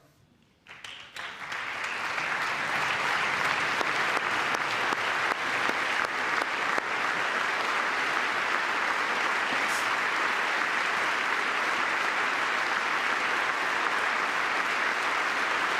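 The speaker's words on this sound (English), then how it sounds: "Again, clapping for that at the very least." An audience at a presidential address to Congress breaks into applause that swells within the first two seconds into loud, sustained clapping, continuing evenly and without pause to the end.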